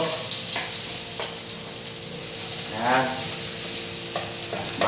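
Garlic, onion, chili and meat sauté in a pan for Bicol Express with a loud, dense sizzle and occasional utensil scrapes and taps throughout.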